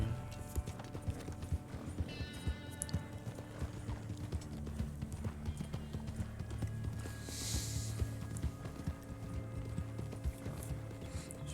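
Rhythmic hoofbeats of a galloping horse in the video game Red Dead Online, steady and continuous, with faint mechanical clicks and a brief whinny-like tone in the background.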